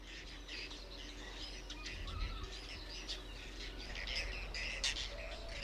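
Birds sing and chirp in a European wetland in June, with faint, scattered tweets and calls over a low, steady background hush; the sound is distant and soft throughout, with no voices.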